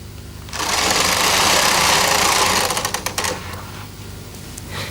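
A Bond Incredible Sweater Machine knitting carriage slides across a row with a loud, steady mechanical whir lasting a couple of seconds, then ends in a few sharp clicks and lighter rattles as it stops.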